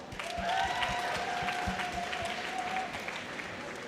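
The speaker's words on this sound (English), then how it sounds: "Everyone give him another round of applause." An audience at a school fundraising event applauds steadily for several seconds, a moderate wash of clapping with a whistle-like tone running through the middle.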